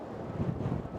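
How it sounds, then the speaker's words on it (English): Strong wind buffets the microphone at an outdoor American football match between the Warwick Wolves and Cardiff Cobras, a loud continuous low rumble with gusty swells. "Oh, my Lord, it is windy."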